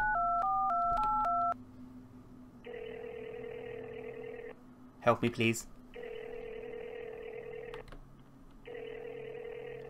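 Telephone in an indie horror video game: a quick run of dialing tones at the start, then repeated steady ringback tones with pauses, broken once by a brief noisy clatter, while someone speaks.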